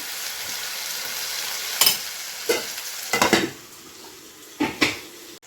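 Tomatoes sizzling and frying in a pan, with several sharp clanks and scrapes of a utensil against the pan over a steady soft hiss; no talking.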